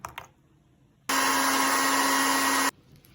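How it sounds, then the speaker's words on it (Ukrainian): A steady, loud motorized whir of a blender grinding cookies runs for about a second and a half, then cuts off, with quiet surroundings before and after. "Викладаємо у блендер"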